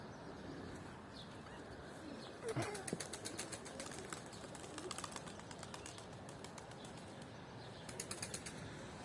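Faint, distant pigeon wingbeats flutter in a few short bursts against steady outdoor background noise, with occasional soft bird calls.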